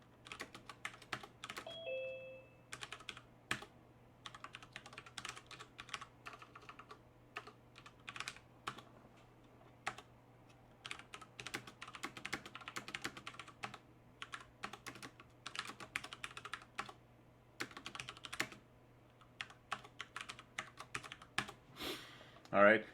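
Continuous computer keyboard typing while test code is written, with irregular bursts of clicking keys and short pauses between them over a steady low hum, ending in a louder clack.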